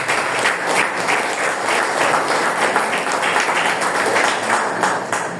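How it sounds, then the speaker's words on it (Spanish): A church congregation claps together during a Spanish-language sermon, producing dense, steady applause that holds at full strength for about five seconds. "Dale palmas al Señor."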